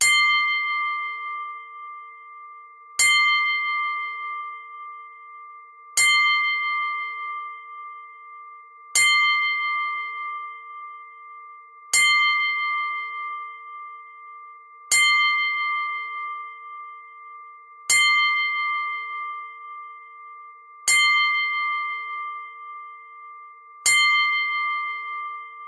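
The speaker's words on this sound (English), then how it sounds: "every time a wrestler dies, you will hear this upcoming sound, the 10-bell salute" A single bell is struck for a wrestling ten-bell salute, each clear ringing strike spaced about three seconds apart and left to fade before the next, with no voices.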